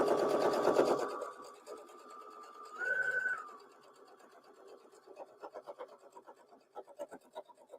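A home-studio sewing machine chain-pieces quilt blocks, a loud whirring run at the start, then a brief higher-pitched stretch, followed by quieter rhythmic ticking and stitching bursts.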